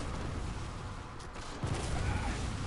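Gunfire in the video game Bloodborne: a couple of short, booming low thuds over a steady bed of ambient game noise, moderately loud.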